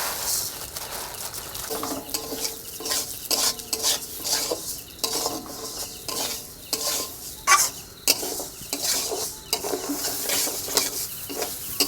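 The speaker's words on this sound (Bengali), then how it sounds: "যে কড়াই সবজি ভেজেছি সেই কড়াই ডালটা ভেজে নেবো" Lentils fry in a wok already used for vegetables, with a soft sizzle beneath repeated scraping, stirring strokes of a spatula against the metal, fairly close and moderately loud, no voices.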